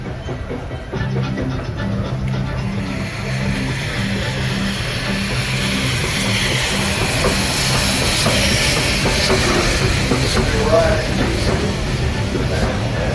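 A Walt Disney World Railroad steam train at the Magic Kingdom gives a steady, close rumble with continuous steam hiss and faint rhythmic wheel clatter throughout.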